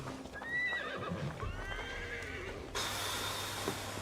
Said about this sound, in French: le cheval c'est trop génial